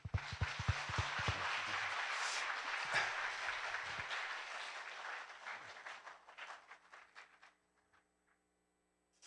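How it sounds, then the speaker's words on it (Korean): A church congregation applauds at an evangelism festival, loud dense clapping that holds for several seconds, then thins into scattered claps and stops near the end. "우리 하나님께 영광의 박수 올려드립니다"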